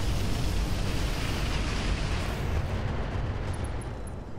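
Mech weapons fire at an enemy mech in the game Roguetech, a dense, continuous roar of rumbling blasts and explosions filling the whole stretch, loud and unbroken, with faint high ticks near the end.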